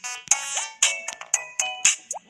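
A phone notification ringtone chimes during a mobile game session, a short bright melodic tone repeated in several quick bursts, loud and close with no talk over it.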